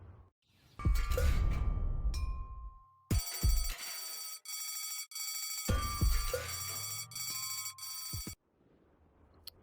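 The blast signal alarm in the Deponia video game rings in loud, bright electronic bursts, with an opening tone and then repeated ringing segments separated by brief gaps, and no talking.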